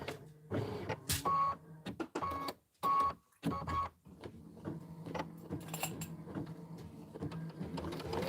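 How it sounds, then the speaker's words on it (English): An embroidery machine stitches in bursts, its rapid mechanical clatter stopping and starting in short runs, then settling into a steadier softer whir with faint rattles, close by and with no talk. "So while this is stitching"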